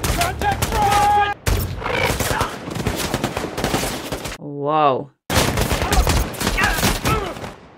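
Dense gunfire and explosive battle noise from the war film American Sniper, loud and sustained, with a brief startled exclamation and a harmonic cry cutting through midway before the shooting resumes.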